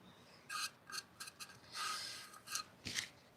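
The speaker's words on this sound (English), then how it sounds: "A little bit more sanding right here." Sandpaper rasps against the inside of a hollowed wooden piece in a series of short, uneven strokes with brief pauses between them, close and fairly quiet.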